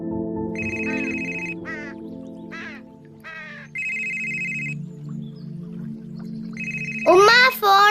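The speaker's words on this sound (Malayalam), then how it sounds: "ഉമ്മ ഫോൺ അടിക്കണേ" A mobile phone rings in a repeating electronic tone, sounding in bursts interleaved with short chirpy melodic notes, fairly near and clear, with a brief louder voice-like sound at the very end.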